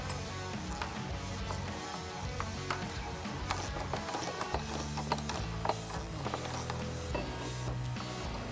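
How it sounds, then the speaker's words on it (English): A 13mm socket ratchet and wrench snug up a bolt while a barricade removable hard-top roof basket is installed on a Jeep Wrangler JL 4-door. A steady, close mechanical clicking runs throughout with no talking. "we're gonna go ahead and snug that up with a 13mm socket and 13mm wrench."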